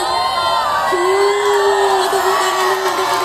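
Scout children at a store meet-and-greet event cheer and shout together, a loud sustained crowd roar with whoops and a long held high voice riding over the noise.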